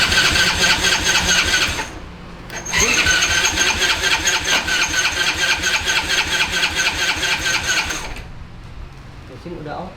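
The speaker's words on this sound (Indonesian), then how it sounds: "Sekarang kita mau coba nyalain motor ini untuk pertama kali kita tes" Restored motorcycle engine started for the first time, cranking then catching into a loud, steady rattling idle that runs for several seconds before cutting off, with people talking nearby.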